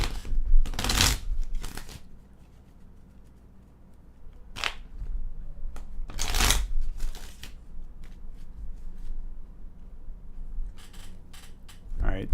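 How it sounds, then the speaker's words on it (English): A deck of tarot cards is shuffled in a few sharp, rapid riffling bursts separated by quieter gaps, with a voice speaking softly now and then between them. "I want to shuffle better."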